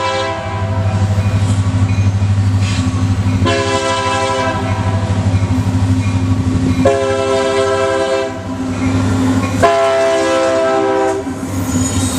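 A loud Union Pacific freight train rumbles steadily past, with several long blasts of its multi-tone horn sounding over the heavy rolling noise.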